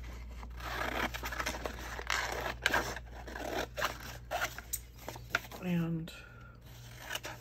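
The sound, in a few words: scissors cutting paper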